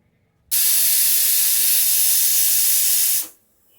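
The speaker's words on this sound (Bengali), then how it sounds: "কুকারে পড়ছে সিটি, একটু আলু সিদ্ধ করছি বিকেলে নাস্তার জন্য" A pressure cooker boiling potatoes lets out a loud, steady steam whistle-hiss for about three seconds, starting abruptly and then fading out, close and alone without voices.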